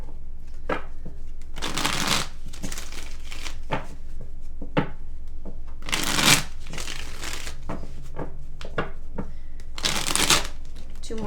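Close, crisp riffle-and-rustle bursts of a tarot deck being shuffled by hand, several distinct shuffles spaced a few seconds apart with softer card handling in between.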